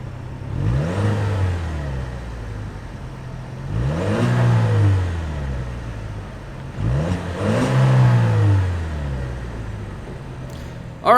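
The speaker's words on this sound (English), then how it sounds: "But let's hear this engine for a sec here." A 2017 Buick Cascada's small turbocharged four-cylinder engine is revved three times in succession, each rise climbing in pitch then falling back to idle, close and loud with no talk.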